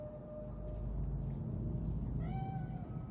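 In the Night City streets of the video game Cyberpunk 2077, a cat meows faintly twice, a brief tone and then a longer rising one, over a steady low rumbling ambience.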